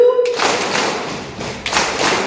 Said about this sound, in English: Clap 2.